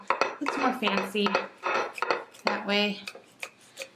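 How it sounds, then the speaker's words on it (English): A knife saws through crispy stuffed French toast on a plate, with scraping, crunching strokes and clinks of cutlery close by, while a person talks over the cutting. "If you can hear that, it's just so crispy on the outside."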